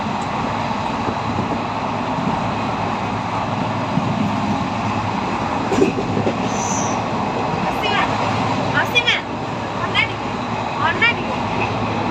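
A train rolls along with a steady, continuous rumble and rattle throughout, with brief high squeals and clanks near the end, heard from close by alongside the moving cars.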